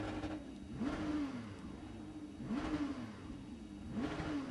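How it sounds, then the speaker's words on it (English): A Porsche Carrera Cup race car sits stationary on the grid at the Sachsenring, its engine revved in three sharp blips that rise and fall, each a loud, close snarl over a steady idle. "You can hear him revving it."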